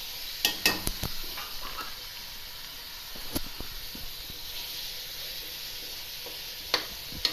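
Minced meat (keema) for aloo keema matar fries in a pan with a steady close sizzle and hiss, broken by scattered sharp clinks and scrapes of a spoon stirring against the metal.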